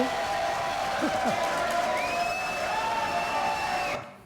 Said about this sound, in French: Applaudissements pour Ludo.